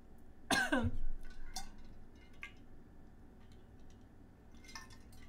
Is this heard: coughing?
yes